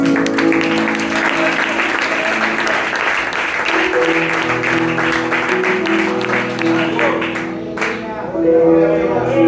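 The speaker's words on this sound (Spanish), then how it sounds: "Aplauda para Dios" Congregation applauding in a church service, a dense steady wash of clapping that carries on for several seconds, with music and voices running underneath and a brief lull near the end.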